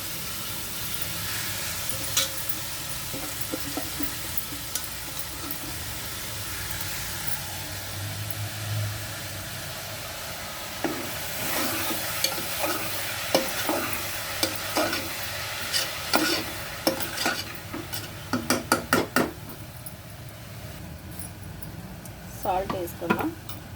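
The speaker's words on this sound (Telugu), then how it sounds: "ఆయిల్ వేడెక్కిపోయింది కదండి. ఇప్పుడు ఆనియన్ వేసుకుందాం." Chopped onions dropped into hot oil sizzle steadily while a utensil scrapes and clacks against the pot in irregular bursts that grow busier toward the end, under intermittent talking.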